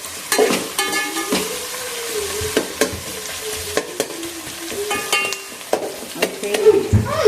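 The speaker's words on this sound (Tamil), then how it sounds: "இப்போ இந்த வெங்காயம் வதங்கிறதுக்கு கொஞ்சமா உப்பு சேர்த்துக்கலாம்." Onions frying with a little salt in a pan for vegetable biryani: a constant sizzle broken by repeated metal spatula scrapes and clanks against the pan.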